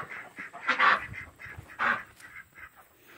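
Ducks at a wooden duck house with a porch and deck give a few loud honking quacks, close by, in two main bursts with softer calls between, and no talk.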